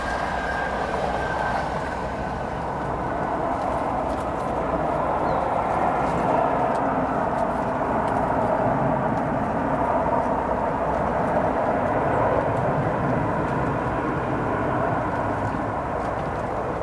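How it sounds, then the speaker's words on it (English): A British Airways Boeing 787-10 Dreamliner departs O'Hare bound for London, its engines giving a steady, sustained roar that swells gently and holds at a moderate distance, with no talking over it. "That British Airways is going to be headed off to London as British Airways Flight 298, a 787-10 Dreamliner."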